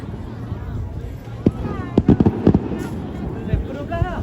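New Year fireworks pop and crackle at a distance in a short burst of sharp reports, heard beneath people chatting nearby.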